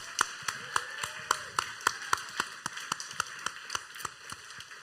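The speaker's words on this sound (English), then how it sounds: "Can we just give another round of applause, please?" Scattered hand claps from a small audience at a live-streamed event after a performance, sharp and uneven, over a steady tonal hum for about five seconds.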